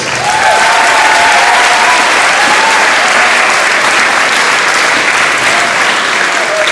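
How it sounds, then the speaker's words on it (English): Sustained audience applause at a school moving-up day event for the class representatives, dense continuous clapping at steady volume with faint voices audible beneath it. "And a round of applause for our class representatives."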